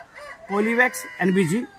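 A country chicken gives a few close, loud clucking calls in two short bursts, raspy and rising, with little else around.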